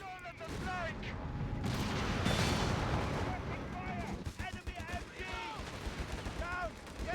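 Machine gun suppression fire in the WWII strategy game Company of Heroes 3, dense bursts of gunfire mixed with other battle noise and a constant din, with a commentator talking over it.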